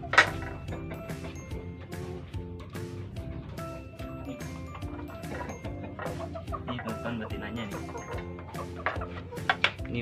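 Brahma chickens clucking close by in a steady, busy stream of short repeated clucks, with faint jingling and occasional higher calls mixed in.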